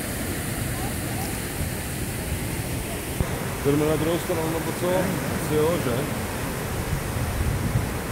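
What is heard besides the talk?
Cascades d'Ouzoud waterfall in Morocco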